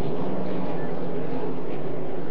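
A 6-litre racing boat's engine drones steadily and loudly at a regatta, a continuous broad roar with no clear breaks throughout.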